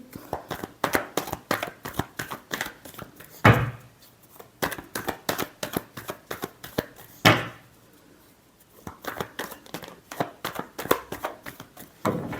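A deck of tarot cards is shuffled in quick riffling bursts of crisp flicking, broken by two sharp thumps of the cards being squared, close up and with no talk.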